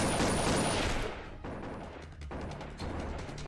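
Dense, sustained gunfire plays from a Torchwood episode on a TV, a loud continuous fusillade that eases slightly and continues in bursts.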